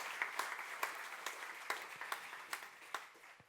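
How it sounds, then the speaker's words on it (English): Audience clapping for a team at the opening of a livestreamed conference, a thin, fairly quiet patter of hands with a few sharper individual claps standing out at a steady rhythm. "I would like you to give some applause to the team as well."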